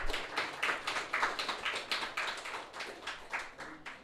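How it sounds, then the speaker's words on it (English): Audience clapping for contestants at a business challenge quiz contest, a steady patter of many hands with uneven rhythm, moderately near and alone for about four seconds. "let's clap for them"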